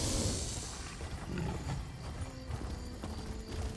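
A horse in the video game Elder Scrolls Online gallops with rhythmic hoofbeats and lets out a whinny, mid-loud against a busy game soundscape.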